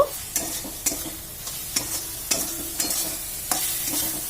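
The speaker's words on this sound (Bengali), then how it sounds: "জিরে গুঁড়োটা দিয়ে আবার একটু মশলাটা কষিয়ে নেব।" Masala with cumin powder fries in a pan for a Katla fish curry: a steady sizzle broken by regular, evenly spaced stirring scrapes, close and clear, with no talking.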